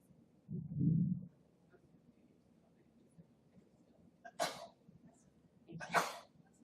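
A single sharp sneeze-like burst is followed by a second, both brief and loud against a quiet background, after an earlier low muffled cough.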